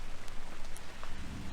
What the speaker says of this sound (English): It's like just barely sprinkling right now